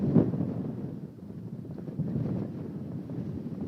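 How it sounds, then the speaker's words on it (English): Steady wind buffets the microphone with a low, rushing rumble that swells and eases throughout, outdoors at a girls' soccer match on a windy night. "It is a windy night here."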